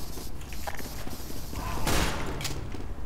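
Pistol shots and reload mechanics in Team Fortress 2, a busy run of clicks, clacks and pops over steady game noise, with a brighter burst near the middle.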